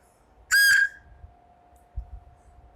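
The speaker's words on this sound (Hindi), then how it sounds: "ये फूंक इस ढक्कन के बाजू में रख के मारता हूं तो आवाज निकलता है मस्त" One short, loud whistle blown across the open end of a pen cap, sounding close and alone over a faint low hum, followed by quiet handling noises.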